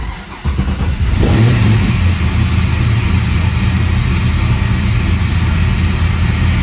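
A cold LS-swapped 1981 Trans Am engine cranks and catches within half a second, then settles into a loud, steady high idle close by, with no voices.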